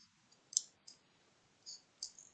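Scissors snipping through thin paper, a few sharp, quiet cuts spaced irregularly against near silence, close to the microphone.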